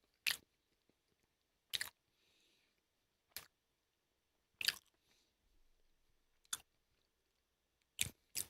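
Chewy, slightly sweet snack being eaten up close, with sparse crisp bites and clicks spaced every second or so against near silence.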